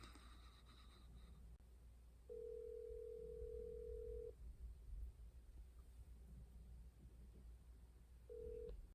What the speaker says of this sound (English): I'm literally having to call Epps' phone